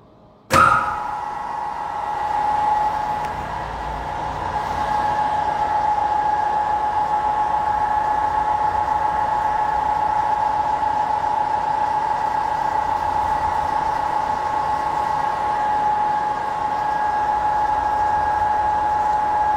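An electric motor under load starts with a sudden clunk and spins up into a steady, loud whine with a whooshing cooling fan hum underneath.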